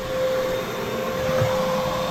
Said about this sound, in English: Come on, vacuum.